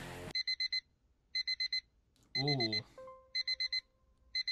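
An in-game alarm clock in Car For Sale Simulator beeps in rapid groups of four, with short pauses between repeating bursts. Someone speaks briefly over it, and a soft tone sounds near the end.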